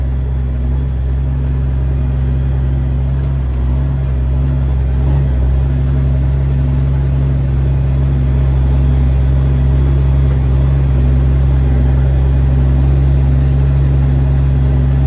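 A manure spreader truck drives across old alfalfa hay ground, its engine giving a steady, loud, low rumble that holds unchanged for the whole stretch, with no voices.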